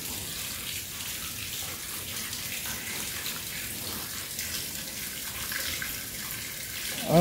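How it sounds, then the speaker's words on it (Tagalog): Water flows steadily through a cave tunnel with a constant rushing hiss that holds without a break. "So dito napunta tubig."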